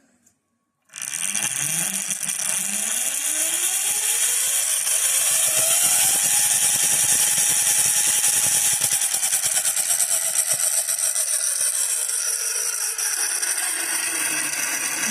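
Homemade electric pit bike on a new, slightly slack chain running at speed 3, its motor whine rising in pitch over the first few seconds and then holding steady and loud, with a continuous chain rattle throughout and no talking.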